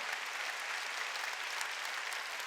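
A church congregation applauds during a Sunday worship sermon, a dense, even roar of many hands clapping that holds steady throughout, with no voices on top.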